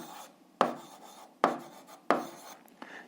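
A pen writes on paper during algebra working, four short scratchy strokes with quiet pauses between them, close and faint, with no speech.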